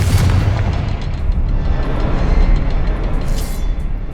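A Confringo fire spell blasts in Hogwarts Legacy, a loud, continuous booming explosion that rumbles and roars through the whole moment with deep low-end weight and no talking.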